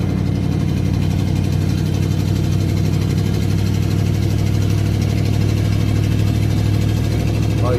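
An old 1993 Ford 302 V8 running with a nearly straight exhaust, a steady, loud, deep rumble that stays even and close throughout, with no talking.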